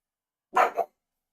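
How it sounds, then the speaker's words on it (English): A single dog bark in the video game Silent Hill 2 Remake, a short double-pulsed woof, close and loud, with silence around it. "Why is Peg barking?"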